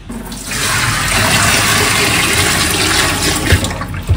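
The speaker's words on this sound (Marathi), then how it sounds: "आता इथे मी बादली भरून आणलेली आहे, आता याच्यात टाकून देते तुम्ही." Water from a full bucket is poured in one long rush into a drain, a steady loud gush that lasts several seconds with a few splashes near the end.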